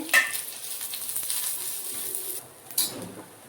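Onion, coconut and cashews roasting in a pan for Veg Kolhapuri bhaji: a bright, steady sizzle that fades near the end, with a sharp clink of a utensil at the start and another scraping stir shortly before it stops.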